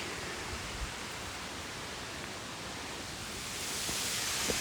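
Steady broadband rush of a waterfall at Paradise in Mount Rainier National Park, a continuous hiss-like roar that holds constant and swells slightly louder toward the end, with no voices.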